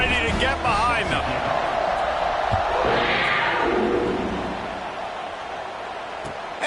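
A football stadium crowd roars loudly and continuously at an Indiana versus Kentucky game before a kickoff, a dense wash of cheering that gradually eases off.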